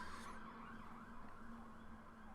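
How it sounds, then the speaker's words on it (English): A siren sounds from outdoors, distant and steady, as a faint wavering wail under a continuous background hum. "I heard a siren, but I didn't see a police car."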